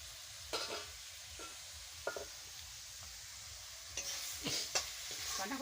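Cabbage curry with spices frying in a pan during a home cooking session, a steady close sizzle. A spoon stirs and scrapes in scattered taps, and no voices are heard.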